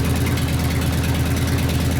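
A Harley Evo engine in a custom rigid bobber chopper idles steadily, a loud, close, low throbbing rumble with an even pulsing rhythm and no voices.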